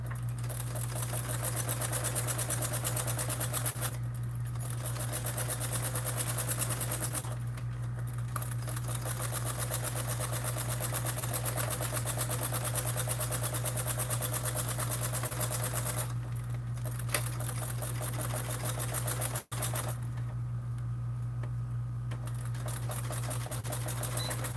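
A sewing machine stitches a half-inch seam on a Swoon Maisie bag, running in a steady, loud, fast whirr with a constant motor hum, pausing briefly a few times.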